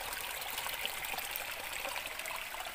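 Spring water flowing along a small stream at a mountain resort in Matag-ob, Leyte: a steady, faint trickling and burbling that continues evenly without pause, with no talking.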